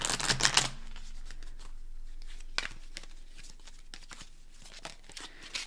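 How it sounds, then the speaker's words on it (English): Tarot cards being shuffled by hand, crisp papery riffles and slides coming in quick bursts, loudest at the start and then softer and intermittent, close and quiet with no talking. "These ones are so hard to shuffle."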